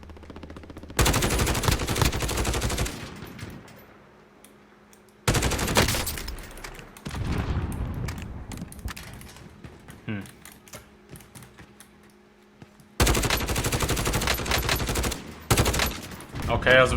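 Rapid automatic gunfire from weapons in the shooter game Warzone comes in three loud, dense bursts of a few seconds each, separated by quieter stretches with faint background game sound.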